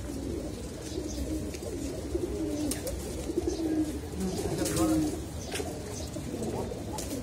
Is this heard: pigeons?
yes